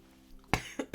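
A person coughs three times in quick succession, the first cough strongest and the next two sharp and close together, heard near and indoors over a quiet background.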